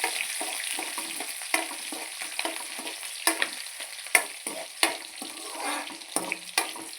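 Masala frying in a pan for ground-paste fish curry while being stirred, a steady sizzle broken by repeated scraping clatters of the spoon against the pan, close and alone.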